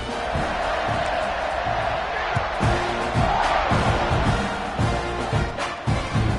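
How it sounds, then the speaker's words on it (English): A stadium crowd in a college football video game keeps up a steady, dense roar with scattered cheers and thumps, and commentary voices talk over it. "this crowd is buzzing after that last score"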